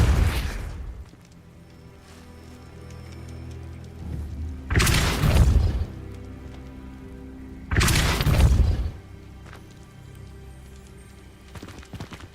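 Two heavy, booming spell impacts from a Repulso cast in the Hogwarts Legacy video game, each a loud broadband burst about three seconds apart over a low game ambience.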